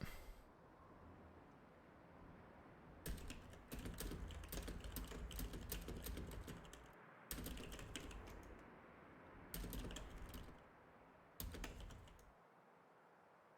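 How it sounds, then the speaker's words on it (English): Rapid computer keyboard typing comes in several dense bursts separated by short pauses. It is fairly faint and close, with a quiet room hum underneath. "I apologise if you can hear the rampant typing."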